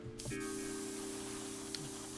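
An airbrush spraying paint on a miniature, a steady, close hiss that holds for the whole stretch with a faint tonal hum beneath it and a soft click near the end.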